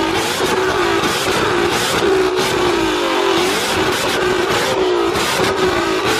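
A powerful twin turbo Mustang GT500 engine revs loudly and nearby at a car meet, its pitch rising and falling in surges over a constant roar.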